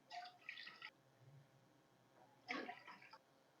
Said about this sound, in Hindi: 3 कप पानी डालूंगी पैन में मैं।